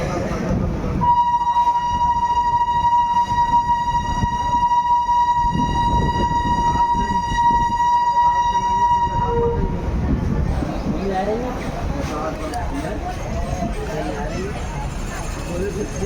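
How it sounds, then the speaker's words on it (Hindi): Mahananda Express pulling out of Kishanganj station with a long, steady horn blast followed by the rumble and clatter of the train moving off, heard close with someone talking over it. "डिपार्चर हो गई अपनी ट्रेन किशनगंज से"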